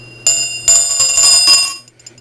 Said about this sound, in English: And then we have a holiday bell